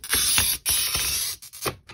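A glass cutter scores a strip of deeply ridged fused glass, giving a series of short close gritty rasping strokes with brief gaps between them.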